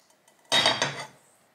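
A metal pot clatters and scrapes briefly as it is picked up and handled, a close, bright clanging burst lasting about half a second.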